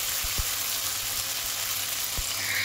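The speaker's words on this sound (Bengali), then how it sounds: "মশলাটা দিয়ে দিলাম তেলের মধ্যে।" Ground spice paste frying in hot oil, a steady near sizzle with a couple of dull knocks from the pan, brief and with no voices.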